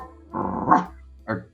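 A man imitates a barking dog with his voice, giving one long drawn-out growling bark and then a short sharp yip, close and alone.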